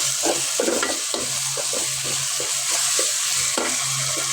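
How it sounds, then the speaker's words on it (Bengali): Chicken pieces being stirred and turned with turmeric in a hot oiled pan, a constant bright sizzle with repeated scraping strokes of the spoon roughly every half second, close and loud, with no talking. "হলুদটা ভালো করে মাখিয়ে দিতে হবে"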